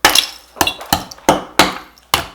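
A rolling pin strikes a block of clear ice to knock off its edges, six sharp, loud cracking impacts at an uneven rhythm, each followed by a brief clatter of ice chips.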